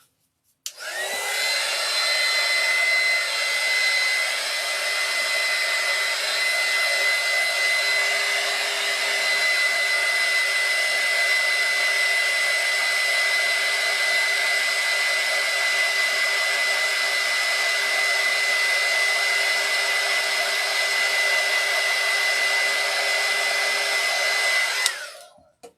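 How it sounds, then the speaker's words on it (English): A hair dryer blows steadily for about 24 seconds, drying alcohol ink on a ceramic tile, switching on and off abruptly with a loud, close, even whoosh and a faint high whine throughout. "We'll dry that off."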